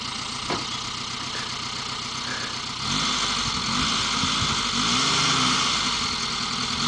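A Suzuki SJ off-roader's engine runs in two-wheel drive, a steady close idle rumble that rises into louder revving and working partway through, with no talk.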